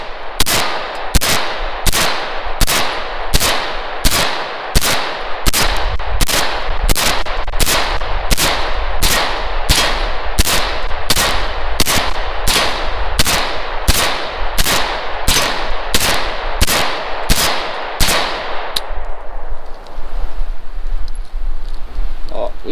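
A firearm fitted with a Marmot shell catcher fires about two dozen loud, close shots at a steady rapid pace for roughly eighteen seconds, then stops abruptly into quieter handling noise.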